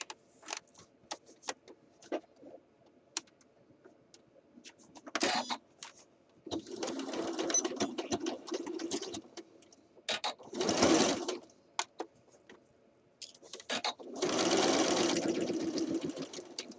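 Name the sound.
sewing machine stitching a shirt dress cuff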